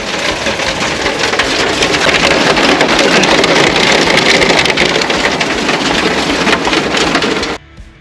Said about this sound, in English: it started thunder and lightning, and there was massive hailstones